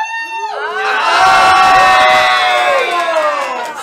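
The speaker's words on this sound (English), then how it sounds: "Cheer her on, everyone." A live game-show audience cheers and whoops for a contestant wiggling her ears, a loud sustained crowd roar with children's shouts that swells and holds, rising over a brief voice at the start.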